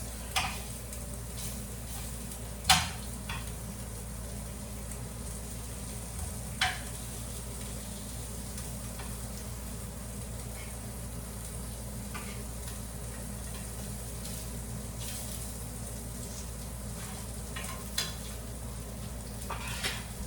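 Food sizzling and frying in a pan on a stove, a soft steady crackle with a few sharp utensil clicks and taps scattered throughout, fairly quiet and close.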